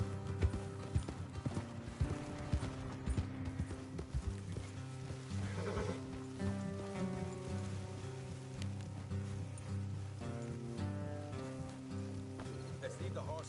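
Horses clip-clop at a steady trot in Red Dead Redemption 2, hooves rhythmic and fairly close beneath a constant musical score, with a brief whinny early and voices talking over parts of the stretch.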